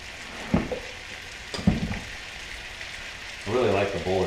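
A pan of roasted peppers sizzles steadily in the background with a few clinks of utensils, and a voice starts speaking near the end.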